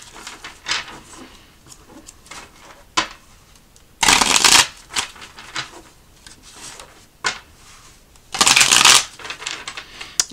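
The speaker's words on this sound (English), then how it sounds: "So we'll just going to do some shuffling here" Oracle deck cards being shuffled close up, in two loud riffling bursts with lighter tapping and handling between them.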